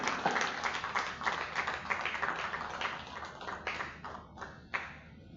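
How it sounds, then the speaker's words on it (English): Audience applause after a lecture by a newly made professor at the Nigerian Law School: steady, fairly faint clapping from a room full of people, thinning out toward the end with a few louder single claps. "Once again, a round of applause to our new Prof."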